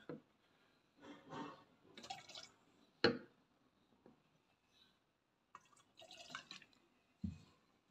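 Fuel system cleaner poured into petrol, heard as a few separate close glugs and liquid splashes with quiet gaps between them, plus one sharper knock.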